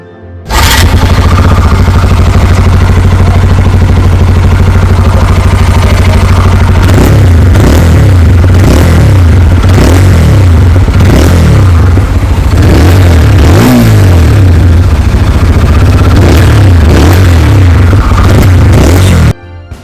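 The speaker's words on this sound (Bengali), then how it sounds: "সর্বপ্রথম শুরু করব এই বাইকের যে এক্সজস নোট বা এক্সজস যে সাউন্ড সেটা দিয়েই" A TVS Apache RTR 4V motorcycle, 20th-anniversary edition, idles loudly and close from its exhaust, then blips the throttle in repeated sharp revs through the second half before cutting off, with no talking.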